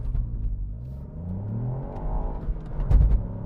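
Ford Fiesta ST engine held at high revs for a launch, a steady loud rumble and whine climbing through the clip with a sharper surge near the end.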